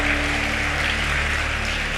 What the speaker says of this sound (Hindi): अपने ही व्यवहार पे ताली भी बजा रहे हो।